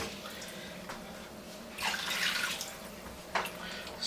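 Water pours from a tap or jug into a cooking pot over vegetables for a tripe soup, a soft steady rush swelling in bursts, fairly quiet.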